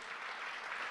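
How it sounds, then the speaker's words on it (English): Prerecorded clap-track applause plays during a televised speech, a dense, even wash of many hands clapping, steady and moderately faint across the whole second. "They accidentally played the clap track too early."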